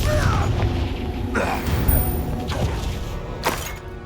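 A Confringo fire spell explodes in Hogwarts Legacy, a loud booming blast with scattered crashing impacts and mechanical clatter following, with a second burst near the end before it fades.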